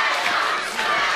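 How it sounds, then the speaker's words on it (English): A crowd at a live wrestling match roars and cheers steadily, a dense wall of voices from a large audience that swells slightly and stays loud throughout. "Crowd slowly getting behind Daniel Swagger now."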